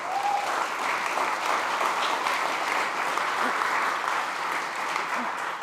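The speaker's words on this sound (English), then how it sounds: "Round of applause for that, please." Sustained applause from a summit audience at a SXSW food session, a full, even roar of many hands clapping with a faint voice briefly audible above it.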